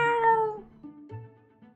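A kitten in the video game Choices: Stories You Play gives a few short, clear, high meows in quick succession, close and alone.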